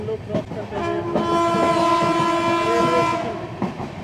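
Train 13115 Sealdah–Jalpaiguri Road rolls slowly near Murshidabad, sounding a long sustained horn over rhythmic wheel clatter, heard close and fairly loud.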